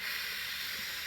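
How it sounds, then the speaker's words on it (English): Dishwasher running indoors, a steady broad hiss of spraying water that stays even and constant throughout. "If you can hear my dishwasher right now, I'm sorry."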